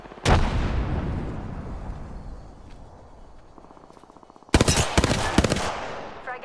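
A frag grenade detonates in Apex Legends with a sharp loud blast and a long rumbling decay. A burst of rapid gunfire and further blasts follows.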